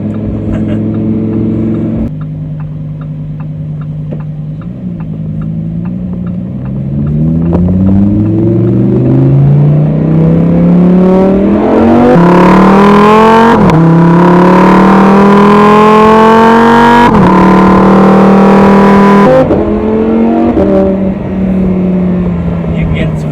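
Engine of a 2020 Lamborghini Huracan Evo revving hard while driving, climbing through rising pitch sweeps with several gear changes, loud and close, with a person talking over it at times.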